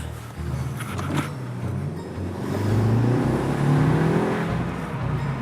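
Skoda Superb 2.0 TFSI tuned to Stage 2 with a downpipe and Eventuri intake pulls away on a drive, its engine drone swelling and rising in pitch as it accelerates, loud and continuous.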